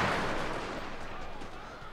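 Musket volley gunfire in a strategy video game set in the Fall of the Samurai era, a loud burst of overlapping shots fading into a rumbling wash, with commentary voices talking over it.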